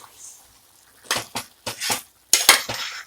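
Ground masala being stirred into partly reduced chicken in a pot, with a series of sharp metal-on-metal scrapes and clinks of a spoon against the vessel after a quiet start, close and fairly loud.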